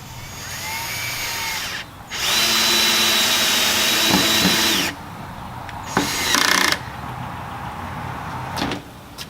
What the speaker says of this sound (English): while I'm screwing in these screws